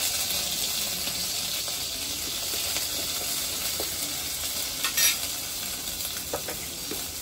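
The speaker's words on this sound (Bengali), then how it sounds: "তার কাঁচা লঙ্কা বাটাটা দিয়ে দিচ্ছি তেলে।" Green chili paste sizzling in a little hot oil in a kadai, a steady close hiss with faint crackles and no talking.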